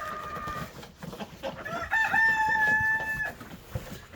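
A rooster crows nearby, a long drawn-out call, over softer clucking and calls from other chickens and roosters around it at a farm chicken feeder.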